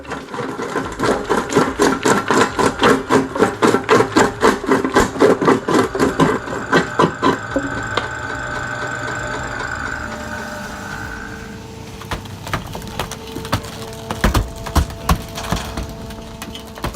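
An industrial shredder tears through a wooden sofa with a rapid, loud, rhythmic crunching and splintering for several seconds, then the machine drones on with scattered cracks and knocks as the load thins.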